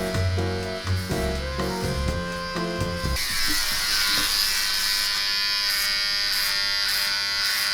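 Electric hair clippers buzz steadily at close range as they cut hair, with a broader, harsher tone once the blades run through the hair.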